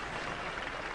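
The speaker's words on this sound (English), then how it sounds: "Ladies and gentlemen, give them a round of applause." Studio audience applauding the roboteers on a robot combat show, a brief steady wash of clapping heard alone at moderate level.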